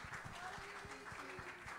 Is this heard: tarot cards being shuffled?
no